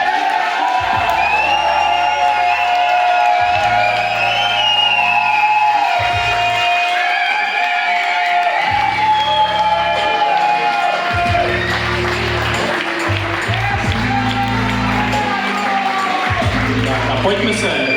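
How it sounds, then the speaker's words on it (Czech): An audience at a village firefighters' Easter performance cheers and whoops with scattered clapping, the loud crowd noise continuing throughout over music and voices. "Já si myslím, že to zaslouží ještě trochu potlesku."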